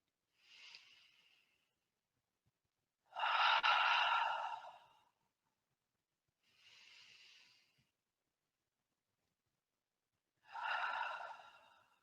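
Slow, soft breaths during guided meditation, four audible inhales and exhales spaced a few seconds apart, close and quiet with silence between them.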